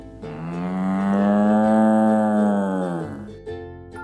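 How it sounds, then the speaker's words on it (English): A cow lets out one long, sustained moo, loud and close, rising and then falling away over about three seconds, heard on its own with no talking, as part of a children's animal sound quiz. "it's the gentle cow"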